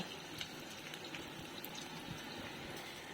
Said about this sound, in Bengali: এতে আমি আলুগুলোকে আগে ভালো করে ভেজে নেব